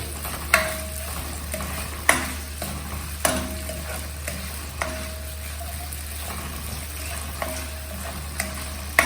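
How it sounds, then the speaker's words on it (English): Chopped tomatoes sauté in a hot pan for tomato pulao, giving a steady low sizzle broken by a series of sharp scraping clacks as the mix is stirred at irregular intervals. "you throw in 2 big tomatoes, chopped tomatoes, okay, and saute."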